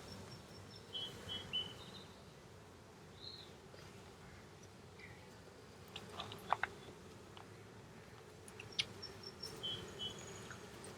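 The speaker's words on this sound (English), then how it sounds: "after shaking the bees back into the hive, the buzz has changed" Honeybees in a hive just after being shaken back in, a faint, steady low buzz with scattered brief clicks and a few chirps over it, heard from close by with no talking.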